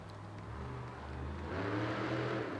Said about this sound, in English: Now he's got that throttle moving, and he's got the truck right in that circle